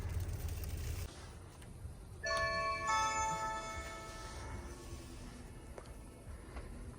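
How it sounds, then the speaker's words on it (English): A doorbell chime rings out clearly from indoors, a sustained multi-tone ding lasting a couple of seconds and then fading, heard from outside the door against quiet background noise. "They're not answering the doorbell."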